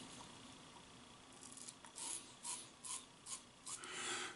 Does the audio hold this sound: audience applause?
no